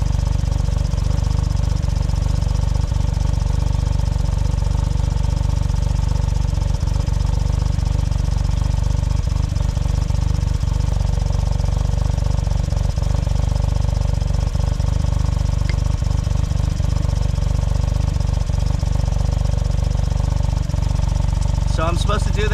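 A Suzuki Cara car with a suspected failed head gasket idles at operating temperature after overheating, giving a loud, steady low engine drone for the whole stretch.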